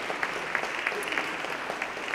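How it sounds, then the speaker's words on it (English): An audience applauds after a dance performance at a 2018 Chicago Dance Month kickoff, steady crowd clapping that carries on evenly for a couple of seconds. "Let's give another round of applause, please, for Winifred Hahn and Dancers and Deeply Rooted Dance Theater."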